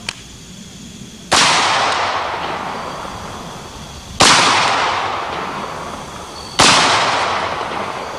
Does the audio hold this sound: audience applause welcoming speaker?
no